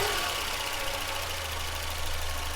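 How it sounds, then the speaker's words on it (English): A Ford 2.3 liter engine with a Pulse Air injection system idles steadily, a loud, continuous rumble with a faint ticking pulse from a car close by. "I can kind of hear the Pulse Air working there."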